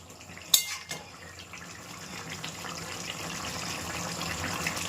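Water poured into a pot of thin chicken curry gives a steady, rising splashing hiss after a brief clatter, with no one speaking.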